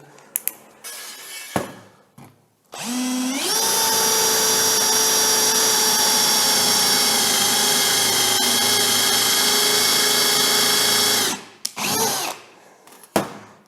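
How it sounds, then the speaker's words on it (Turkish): An Einhell TP-CD 18/60 cordless drill drives a screw into a thick metal corner bracket, a loud steady high-pitched whir lasting about eight seconds, with short bursts and handling clicks before and after. "Şimdi size elimizdeki bir köşement üzerinde vida atmayı göstereceğim cihazın."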